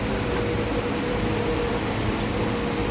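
A vacuum cleaner runs steadily inside the interior of a 2024 Toyota Vios XLE during a basic car wash at a service center. It gives a loud, constant airy roar with no breaks.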